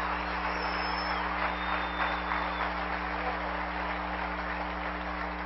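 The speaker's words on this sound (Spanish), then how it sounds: "Dale ese aplauso fuerte al Rey" A church congregation applauds in a continuous, loud wash of clapping, heard over a steady electrical hum from the sound system.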